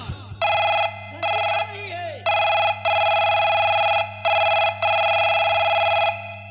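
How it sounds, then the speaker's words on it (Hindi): A telephone rings repeatedly in long electronic bursts separated by short gaps, loud and close, over a low background drone. "हेमा सिंह, जरा प्रधान जी के पास फोन लगा बेटा"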